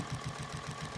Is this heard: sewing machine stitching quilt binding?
yes